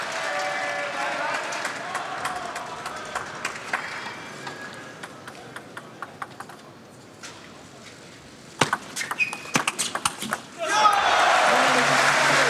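Crowd at a 2012 World Team Table Tennis Championships match in Dortmund, Japan versus Germany, reacting to a rally: scattered claps and crowd murmur, ball pings, then a swell of applause and cheering near the end.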